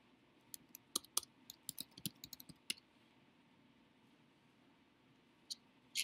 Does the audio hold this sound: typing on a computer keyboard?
yes